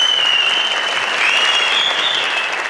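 Studio audience applauds loudly and continuously on a family-feud style game show, a dense steady clapping wash with a sustained tone running beneath.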